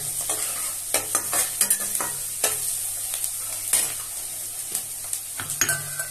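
Pumpkin pieces for kaddu sabzi frying in a pan with a steady sizzle, while a spatula scrapes and knocks against the metal in irregular close, sharp strokes throughout.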